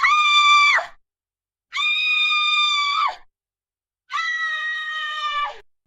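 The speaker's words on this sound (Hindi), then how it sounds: "उसमें से चीखने चिल्लाने की आवाजें आ रही थीं" Three long, loud, wailing screams, each a held tonal cry of about a second that drops off at the end, separated by silent gaps, evoking terrified shrieks aboard a haunted train.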